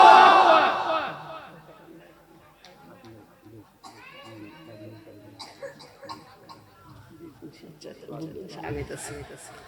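A crowd at a Bengali Islamic sermon gathering in Netrakona roars Allahu Akbar in unison, a loud brief collective shout at the very start that quickly fades into murmuring, scattered noise and a voice speaking.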